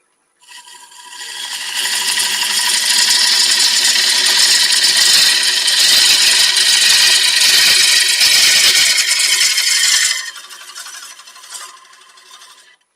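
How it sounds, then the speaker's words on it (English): A sturdy wood lathe with a 2 horsepower motor spins while a gouge cuts the workpiece. A loud, steady rasping shear holds for about eight seconds, then drops to a quieter hum as the cut eases off. "I've got a 2 horsepower motor on this, and it's a very sturdy lathe, so I can make very aggressive cuts"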